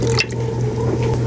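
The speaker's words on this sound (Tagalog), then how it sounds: "Half cup ng tubig." Half a cup of water pours into vinegar for a pickling mix for wakame seaweed, a short, close, wet splashing gurgle lasting about a second.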